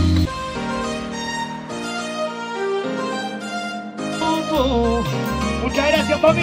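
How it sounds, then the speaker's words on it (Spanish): Lively Latin plena music plays, with percussion and melodic instruments in a bouncy rhythm, full and upfront, with no talking over it. "Llegó la plena! Y esto suena así, Juancito, ¿eh?"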